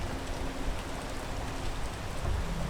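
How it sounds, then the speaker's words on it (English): Steady rain falls outdoors, a dense continuous hiss of drops on surfaces, moderately loud and even throughout with no voices. "it's raining"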